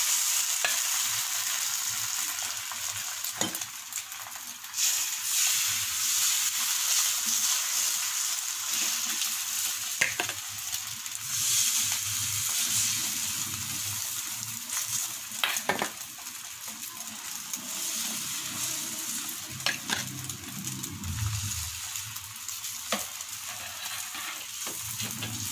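Batter frying on a hot griddle for a bachelor-style omelette-like dish with onion, giving a continuous loud sizzle throughout with occasional scraping and clinks of a utensil against the pan.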